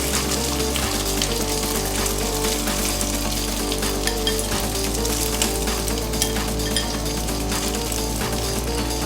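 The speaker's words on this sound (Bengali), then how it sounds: "এবার আমি ভাতটা আস্তে আস্তে মিশিয়ে দিচ্ছি।" Rice is stirred into fried whole spices and mace in a pan, a steady close sizzle with scraping and light clinks of the spoon throughout, no talk.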